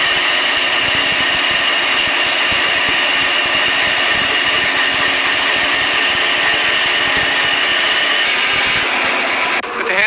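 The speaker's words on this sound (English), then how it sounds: "I could cut out the shape on the bandsaw" A steady, loud machine whine with a harsh grinding edge runs continuously, like a bandsaw working through wood, with no talking.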